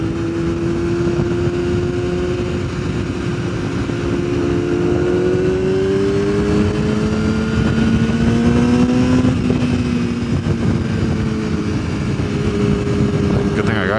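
A sportbike motorcycle engine drones loud and close while riding, its pitch climbing slowly through a long pull, then shifting, with wind noise throughout and a second bike nearby.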